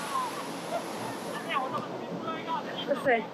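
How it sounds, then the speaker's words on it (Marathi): Ocean waves wash in at Mirissa Beach on Sri Lanka's south coast, a steady broad surf wash with wind, while a person talks briefly over it. "लाटा इतका जोरात येतात आणि डायरेक्ट गुडघेपर्यंत पाणी"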